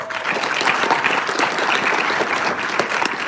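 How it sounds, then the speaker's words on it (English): A crowd at a state debating league grand final claps steadily, close and full, with individual hand claps flickering through the continuous wash of applause and no talk over it. "Can we give a round of applause to these people?"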